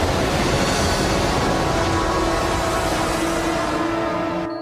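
A train rumbles along the tracks in the animated series Thunderbirds Are Go, a loud steady roar and rattle sustained throughout before cutting off abruptly.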